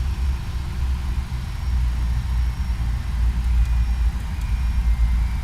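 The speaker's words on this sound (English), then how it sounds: "You can hear the engines rumbling down there." Airliner jet engines spooling down after shutdown at the gate in the flight simulator X-Plane 11, a steady low rumble with a faint high whine above it, heard alone.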